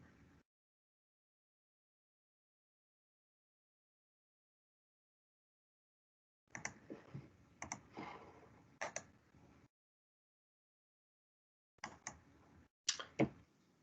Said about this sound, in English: You see you all busy typing away again.